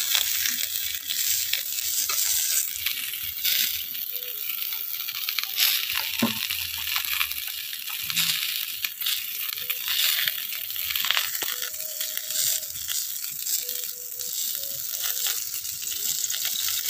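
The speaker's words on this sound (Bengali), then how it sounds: "ফুলকপিটা হালকা করে ভেজে নিই, সব আনাজগুলো হালকা হালকা করে ভেজে নিতে হবে।" Cauliflower and other vegetables fry lightly in oil in a pan, a steady bright hiss of sizzling with occasional stirring scrapes, close but fairly quiet, no talking.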